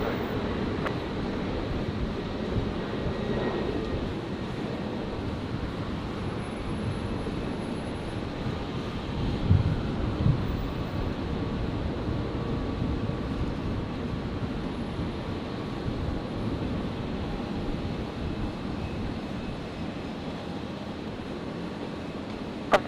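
A Qantas Link Embraer E-Jet departs Brisbane runway 01 right. Its distant jet roar forms a broad, steady rumble with wind noise and a couple of brief knocks.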